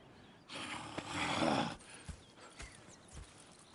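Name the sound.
horses neighing and hooves clip-clopping, video game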